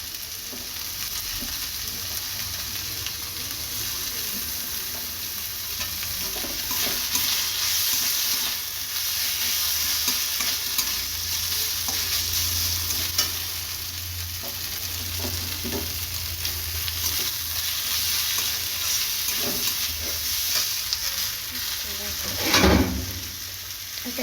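Fish with tomato frying in a pan in a home kitchen, a steady close sizzle with intermittent scraping and stirring strokes throughout and a sharper clatter near the end.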